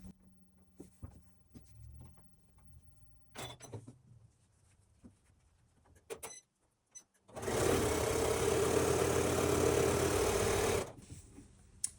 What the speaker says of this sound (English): So we will start by sewing along this edge.